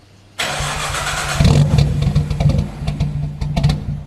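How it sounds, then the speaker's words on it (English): An R33 Nissan Skyline engine cranks with a whirring starter, then catches and settles into a rough, loud idle with uneven exhaust pulses through the stock exhaust, close by. "give you guys a beforehand of this horrible, terrible exhaust"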